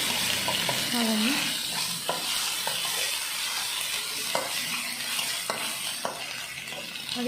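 Ginger-garlic paste frying with onions, curry leaves and dried red chillies for a bitter gourd fry: a loud, steady sizzle with occasional knocks of a stirring spoon, close up, and a brief faint voice early on.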